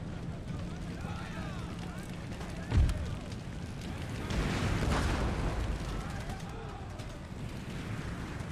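Cannons fire canister shot in Empire: Total War, a muffled boom landing mid-battle followed by a rolling, rumbling wash of gunfire and noise, fairly faint beneath the general din.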